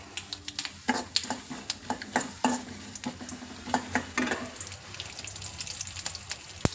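Chana dal and urad dal go into hot oil and fry with a light sizzle and crackle, broken by irregular stirring scrapes and clinks against the pan, fairly close and moderately quiet.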